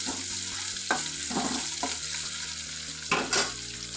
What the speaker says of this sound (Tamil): இடித்த பூண்டு, கொஞ்சமாக கருவேப்பிலை நல்லா வதக்கிடலாம்.